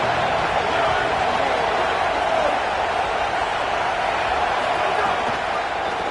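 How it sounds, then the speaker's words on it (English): Loud, dense stadium crowd roaring and cheering at a football game, a continuous wall of noise with no breaks, heard up close throughout. "This crowd bringing an ear-splitting welcome to their visitors."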